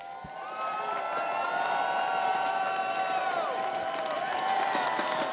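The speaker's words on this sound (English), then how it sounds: "Crowd's getting into it today." An arena crowd at an Apex Legends esports tournament cheers and whoops in a sustained roar, loud and continuous from the first second onward, with scattered shouts rising above the mass of voices.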